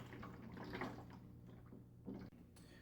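Used motor oil from a 2005 Corolla trickles through a funnel into an old oil jug, a faint liquid gurgle and drip with a brief louder splash near the end.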